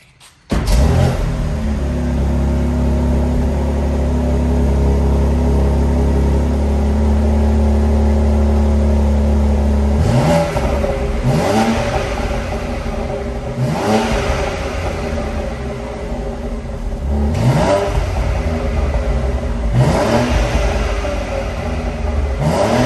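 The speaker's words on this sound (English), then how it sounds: "I'm gonna do like 2-3 revs, and then sport mode, 2-3 revs." A BMW X3M engine starts and idles with a loud low drone, then gets a series of about six sharp revs that rise and fall in quick succession, close and strong, first in comfort mode, then sport.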